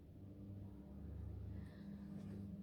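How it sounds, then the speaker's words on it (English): Cars pass along a road in a steady low engine rumble that swells and rolls by, loud and continuous throughout, with no talking. "Can't stand the noise of cars."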